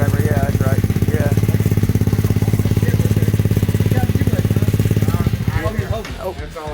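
Honda Ruckus scooter engine idles with a rapid, steady putter close by, then dies away near the end as people talk over it.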